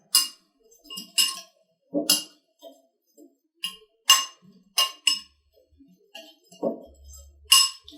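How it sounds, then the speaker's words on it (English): A spoon stirs fresh garden salad in a glass bowl, giving a string of bright, close clinks and taps in irregular bursts with quiet gaps between them. "So get a little stir and get that all mixed in there."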